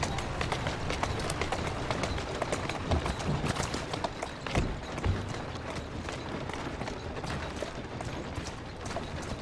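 A horse in Assassin's Creed Syndicate runs in a steady, rapid beat of hoofbeats with mechanical rattling, like carriage wheels and gear, throughout.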